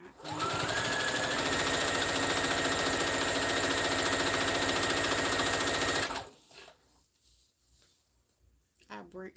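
A sewing machine runs steadily for about six seconds, stitching a line along elastic on shorts, its loud mechanical hum cutting off abruptly before a few faint handling noises and a voice.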